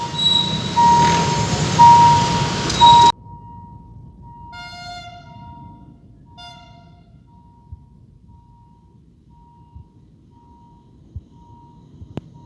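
Alsthom 4224 diesel locomotive with an MTU engine hauling an eastern-line ordinary passenger train past, loud rumble for three seconds then cutting off, followed by a bell-like tone and repeated horn toots in the distance.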